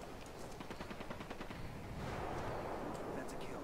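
A frag grenade explodes in the Ghost Recon Wildlands tactical shooter amid rapid gunfire, the blast arriving as a broad roar about halfway through, with a voice speaking over the battle.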